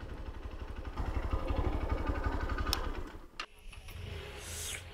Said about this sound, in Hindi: बाइक को कर लेते हैं पांच गियर